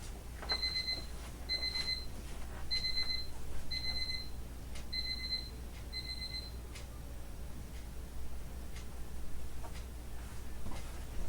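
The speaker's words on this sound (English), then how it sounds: "That was my medicine alarm." A medicine reminder alarm beeps in a repeating pattern of six short double-toned chirps at a steady pace, fairly clear over a low room hum, then falls silent.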